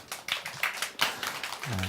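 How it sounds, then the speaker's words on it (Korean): Church congregation clapping during a Sunday service, a short run of irregular hand claps from several people nearby, ending as a low tone begins. "우리 박수 한번 해주세요"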